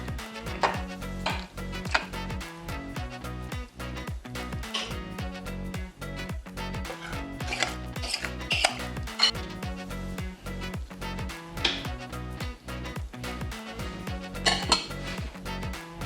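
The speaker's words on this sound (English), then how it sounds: "And then just give it a really good mix." A spoon stirs raw homemade dog treat ingredients in a bowl, with repeated quick clinks and scrapes against the bowl in a brisk, steady rhythm, close and fairly quiet.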